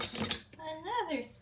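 Metal spoons and cutlery clink and chink against each other and against dishes as a child unloads a dishwasher, in short close-up bursts mixed with a few spoken words.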